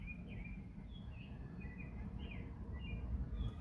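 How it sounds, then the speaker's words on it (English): Several short, high chirps from birds come and go over a steady low rumble of wind or traffic, fairly faint and somewhat distant. "You guys hear the birds?"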